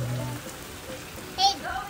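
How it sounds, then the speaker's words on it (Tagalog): Heavy rain pours down in a steady, dense hiss throughout, with a brief louder splash near the end and voices faintly audible in the background. "Lakas ng ulan."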